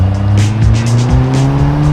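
A Ford Escort Cosworth accelerates hard on turbo boost with a loud, rising engine note heard from inside the car, and gear-change dips interrupt the steady roar.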